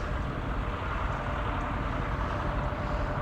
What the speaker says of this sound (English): Apparently there's a tractor ride going on somewhere,